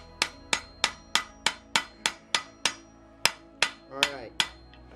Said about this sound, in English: I'm gonna put this guy in here, and I'm gonna hammer the top of it.